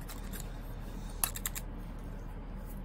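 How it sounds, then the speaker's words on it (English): Spring-loaded scissors snip a few times, producing sharp, brief clicks clustered near the middle over a steady low background hum; the cuts are close and fairly faint. "Super scissors. They spring back automatically. I love these scissors."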